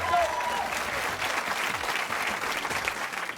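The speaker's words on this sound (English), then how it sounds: "Big round of applause." Steady audience applause for a high school quiz team at a televised quiz show, a dense wash of clapping throughout with a faint voice briefly above it.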